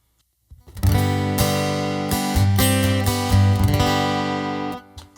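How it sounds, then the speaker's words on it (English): An acoustic guitar through an undersaddle pickup plays a short strummed phrase with a somewhat thin, direct tone, ringing steadily for a few seconds before cutting off. "So that's your typical kind of undersaddle pickup sound"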